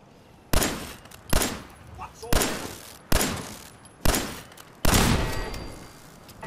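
Turret fire in Fallout 4 booms out as six loud, evenly spaced single shots, each with a sharp crack and a decaying echo tail.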